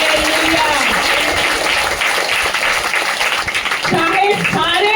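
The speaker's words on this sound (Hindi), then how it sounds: "तालियों को बजाकर प्रभु को धन्यवाद दे।" Church congregation clapping hands together, a dense crowd applause blended with loud voices and singing, the clapping steady throughout and mixed under the voices.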